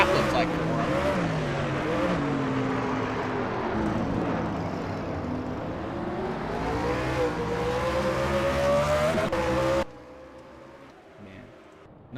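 Race car in a NASCAR-style racing video game at Sonoma missing its braking zone, a loud engine note rising and falling with revving and tire squeal, then cutting sharply to a quieter background; commentary voices run over it.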